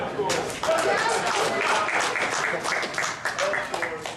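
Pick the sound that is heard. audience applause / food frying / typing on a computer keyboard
audience applause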